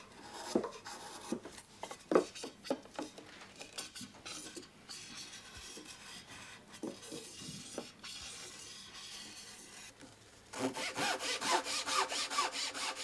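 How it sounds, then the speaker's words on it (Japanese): A Japanese hand saw cuts thin kerfs into wooden roof boards with short rasping strokes, scattered at first and then a fast, steady run of strokes near the end, close and fairly quiet. "屋根の板は反らせやすいようにノコギリで薄く切れ目を入れておきます。"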